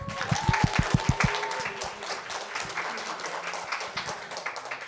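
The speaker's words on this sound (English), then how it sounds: "round of applause for the judges" An audience at the AYDA Awards 2024/25 international finale gives the judges a round of applause, opening with several loud, distinct claps that give way to steady, dense clapping from a sizable crowd.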